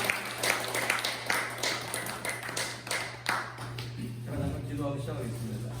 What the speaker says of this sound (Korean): 서로 간에 격려하면서 박수 한번 치고